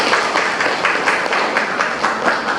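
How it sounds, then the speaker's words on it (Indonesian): A seminar audience of students at a vocational school claps together. The applause is loud and close, with a slightly rhythmic pulse and no talking. "Tepuk tangan buat kita semua."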